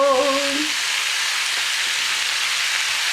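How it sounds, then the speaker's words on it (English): Loud, steady sizzling of a Taco Bell-style crunchwrap frying in a hot pan fills the whole stretch, with a brief voice at the very start. "Sizzle!"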